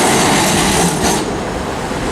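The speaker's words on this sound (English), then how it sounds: "Good MMTB W class tram." An old MMTB W class tram runs through Melbourne, a steady loud rumble of wheels on rail with a slight squeal as it passes close by.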